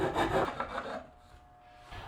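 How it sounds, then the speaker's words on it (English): Wood rasp smoothing notches cut in wood for a DIY cold frame, a close, coarse rubbing rasp of a few strokes that fades into quiet. "I'm going to take my wood rasp, that's kind of like a file for wood, and I'm just going to smooth that out a little bit"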